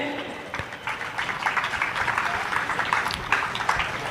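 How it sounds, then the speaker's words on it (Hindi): Scattered, sparse applause from an audience at an Urdu speech competition prize ceremony in Bhiwandi, a steady patter of clapping that holds for several seconds under a faint background murmur. "हाजरीन की तादाद के पेश नज़र तालियां बहुत कम है"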